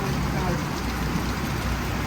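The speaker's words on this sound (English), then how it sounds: "the passing shower has showed up" Rain shower sweeping over Tri-County Speedway's asphalt race track: a steady, even hiss of rainfall with a low rumble underneath, constant for about two seconds.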